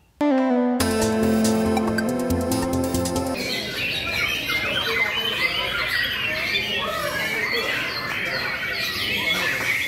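A white-rumped shama sings loudly and up close, a quick run of bright tonal notes giving way to a busy stream of chirps, whistles and squawks.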